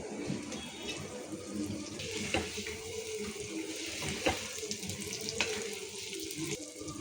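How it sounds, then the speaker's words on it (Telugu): Water is poured into a pan of chilli masala gravy with fried green chillies, a soft, steady trickling splash heard up close and alone, with a few faint clinks. "మిర్చి వేసిన తర్వాత మన గ్రేవీకి సరిపడా వాటర్ పోసుకోవాలి"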